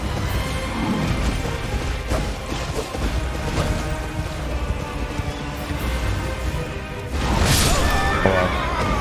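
A horse whinnies amid busy Elden Ring game sounds, with hoof-like thuds and clatter; a sharp neigh rises clearly near the end.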